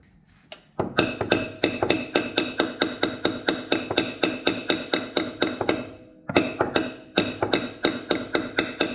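A speedo bung is tapped into place with a socket during a Holden VL Calais turbo Powerglide conversion, heard as a long run of rapid, evenly spaced metallic hammer taps, close and crisp, with a brief pause before the tapping resumes.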